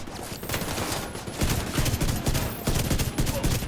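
The Ravenous exotic rifle fires in The Division 2, rapid bursts of loud gunfire crackling in dense clusters with short gaps, sustained throughout amid the game's background noise.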